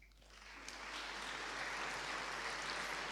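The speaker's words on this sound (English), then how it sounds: "I hope you hear the applause" An audience applauds after a lecture on positive education and positive psychology, the dense clapping swelling in the first second and then holding steady and moderately distant.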